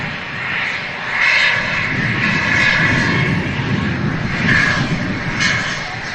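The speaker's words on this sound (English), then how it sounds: "Emirates A380 landing on runway 2." An Emirates Airbus A380 lands on a runway at Manchester Airport, its engines producing a loud, sustained roar with swelling waves of rumble, and voices faintly audible underneath.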